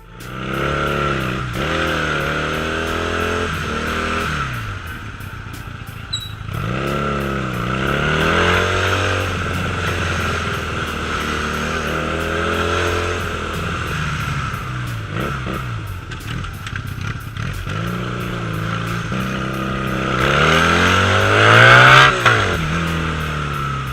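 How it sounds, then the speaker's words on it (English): A Honda Rebel 250 motorcycle revving through repeated rising and falling engine sweeps, loud and close for a long stretch with no talk. "they do have a nice pull that levels out when you rev it high"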